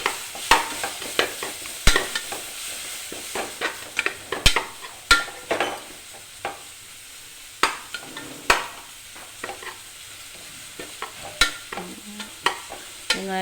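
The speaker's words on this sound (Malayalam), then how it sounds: "തക്കാളി ഇട്ടിട്ടുണ്ട്. ഇനി അത് നല്ലോണം ഒന്ന് വഴഞ്ഞ് വരട്ടെ." Tomatoes frying in a pan with a steady close sizzle, while a spoon scrapes and taps against the pan in irregular strokes as they are stirred.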